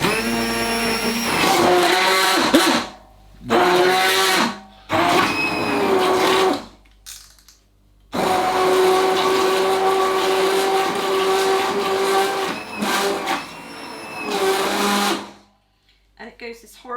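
A hand blender blitzes slow cooker roast chicken soup in loud whirring bursts of several seconds, stopping and restarting with short gaps, with some talk between bursts.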